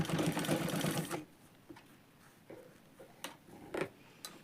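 A sewing machine stitches a fabric hem, a loud rapid mechanical whir for just over a second, followed by quiet, scattered ticks and small clicks nearby.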